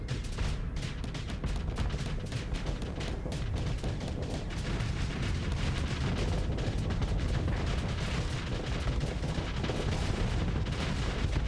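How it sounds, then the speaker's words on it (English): Rapid, continuous barrage of booming torpedo and weapon fire in the space combat game Starsector, loud and dense with overlapping thuds and explosions throughout. "Torpedo for your shields."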